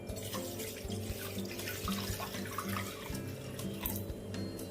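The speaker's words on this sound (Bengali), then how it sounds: "গ্যাস অন করে নিলাম, কড়া চাপিয়ে দিলাম, কড়াতে জল দিয়ে দিলাম।" Water pours steadily into a wok set on a gas stove while cooking chicken bhorta, a continuous close splashing and gurgling flow.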